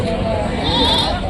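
Goats at a village animal market bleat in a short burst amid a busy crowd, with people talking over them close by.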